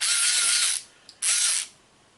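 An OEMtools ratchet tightens a fastener in two short, loud, buzzing clicks of the pawl, close to the microphone, with a faint tap between them and quiet around them.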